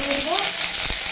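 Cumin seeds sizzling in hot oil in a pan, a short, loud, steady broadband hiss with no talk over it.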